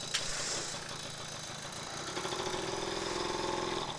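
A Honda Motocompo scooter engine starts and settles into a steady idle in a parking lot, a small buzzing motor heard close and continuous with no talk.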